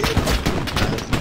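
Rapid gunfire fills a World War II shooter firefight, a dense close volley of loud shots and thumps packed into a little over a second.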